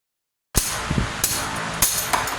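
A slide hammer pulls a rear wheel bearing on a Nissan Xterra, striking four times with sharp metallic knocks at uneven intervals, close up, each followed by a ringing rumble.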